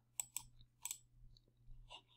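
A computer mouse clicks the OK button in a statistics program, a handful of crisp quiet clicks in quick pairs over near silence.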